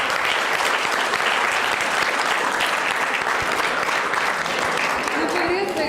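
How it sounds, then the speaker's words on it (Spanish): An audience at an astronomy talk applauds the speaker Ezequiel, a steady, loud clapping that holds evenly throughout with no pauses. "hay que darle un aplauso, ¿no? A Ezequiel."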